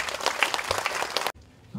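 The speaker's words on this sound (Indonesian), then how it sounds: "Tepuk tangan dulu untuk mama-mama." A crowd claps for the mothers at a market inauguration in West Papua, a dense burst of applause that cuts off abruptly after about a second, followed by near silence.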